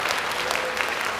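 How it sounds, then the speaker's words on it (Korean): An audience at a parents' education conference applauds the members of a parent policy working group, a brief, even burst of crowd clapping filling the room. "우리 경기 학부모 정책 개발 워킹그룹 위원님들 모두에게 박수 한번 보내주시겠습니까?"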